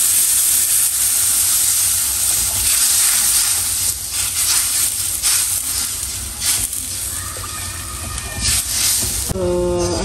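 Water hits a hot pan of curry made with 888 curry powder and sets off a loud, continuous hiss and sizzle that fills the whole stretch. A short tonal clatter sounds near the end.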